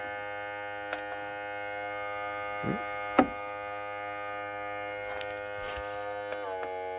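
An FXTUL F703 smoke leak detector runs with a steady electrical hum that stays constant throughout. A few faint clicks and taps sound over the drone.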